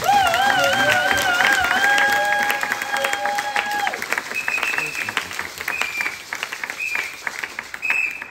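A church congregation breaks into loud applause and cheering that settles into scattered, uneven clapping over a few seconds, with voices mixed in.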